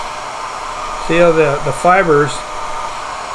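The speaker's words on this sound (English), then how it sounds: "I'm going to run a little hair dryer so you can see kind of what the water would do" A small hand-held hair dryer blows a steady airy whoosh under a voice, used to push water-like flow over a reverse marabou fly.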